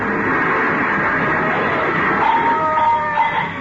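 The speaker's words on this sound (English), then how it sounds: "They hit the lamppost. Broke it off." A car skids and crashes into a lamppost, knocking it off, in a vintage police radio drama: a dense, steady rush of noise with a thin tire squeal rising near the end.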